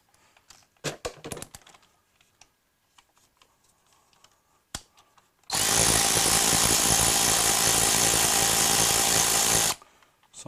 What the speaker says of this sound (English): Let's just remove these three bolts.